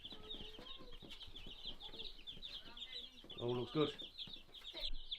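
Young meat chickens in a brooder cheep steadily and softly, with a brief burst of clucking midway and a person speaking briefly.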